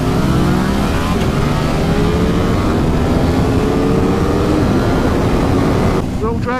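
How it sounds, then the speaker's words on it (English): Ducati Streetfighter motorcycles accelerate hard in a drag race on a private road, a loud close engine roar with rising revs through the gears, ending with a sharp change as the pitch sweeps near the end. "Right, little drag race on the private road."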